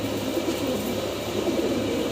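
Fancy pigeons at a Bangladeshi pigeon seller cooing steadily, several birds overlapping in a continuous low murmuring drone, close and fairly loud with no talk.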